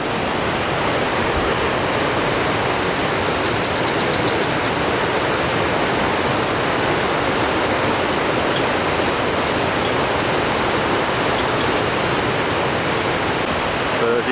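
Water rushes without pause at Three Sister Islands by Niagara Falls, a loud, dense, unbroken roar of waterfalls and rapids surrounding the listener.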